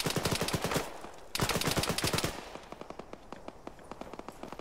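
Gunfire in the video game Arma during a T-55 tank attack on players, dense rapid bursts of shots in two loud volleys, then sparser fainter pops trailing off.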